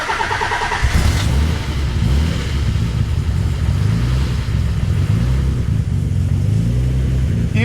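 Twin-turbo Nissan 300ZX with dumped wastegates catches and settles into a loud, rough idle, a low steady rumble carrying a faint light chatter from the cylinder head.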